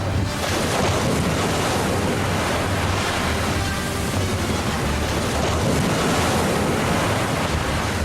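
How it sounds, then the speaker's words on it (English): Rough sea surges and crashes continuously around a boat in a force 9 gale, with heavy wind buffeting the microphone in a loud, unbroken roar. "we'll go into the waves"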